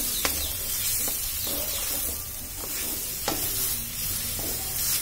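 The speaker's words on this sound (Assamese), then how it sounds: "অকণমান ভালদৰে ভাজি ল'লোঁ" Fish pieces fry in a pan for a sour Assamese fish curry, giving a continuous bright sizzle with a few sharp spatters and stirring clicks, heard up close without speech.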